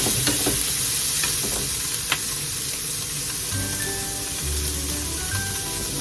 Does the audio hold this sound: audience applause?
no